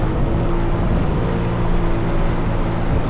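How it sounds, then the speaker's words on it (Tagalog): Heavy rain falls during a long solo motorcycle ride from Southern Leyte to Manila, a loud, dense, steady hiss with a low engine or road rumble underneath. "Ay grabe na ulan naman."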